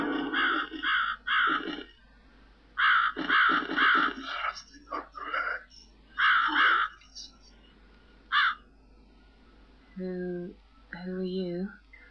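A crow caws repeatedly in the video game The Cat Lady, harsh loud calls in irregular clusters close by, under and between spoken dialogue.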